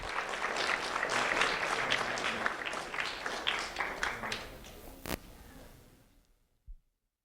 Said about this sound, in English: a round of applause for Taylor Anderson,